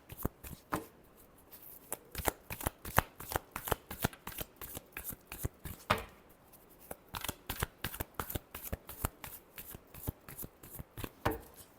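Tarot cards are shuffled by hand in rapid, crisp riffling bursts, dozens of sharp close-up snaps in an uneven rhythm that continues without pause, with no talking over it.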